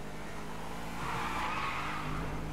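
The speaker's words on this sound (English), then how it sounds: "Madre mía, qué derrapes pego" A car in Grand Theft Auto V skids, a continuous broad tire squeal layered over engine roar lasting throughout.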